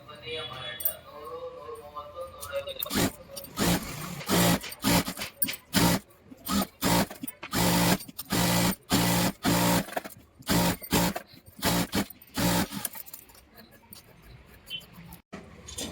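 Sewing machine stitching the lining onto the back panel of a patch-design blouse, running in repeated loud rapid bursts with short pauses between, with someone talking quietly in places.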